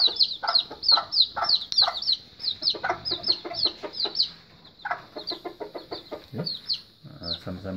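Chickens in a new cage for white junglefowl clucking close by, a busy run of repeated sharp clucks and calls with a brief low squawk near the end.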